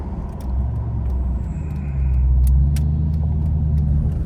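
A Ford Mustang driving past on a road, a steady low engine rumble that swells as it approaches and stays loud and close, with no talking.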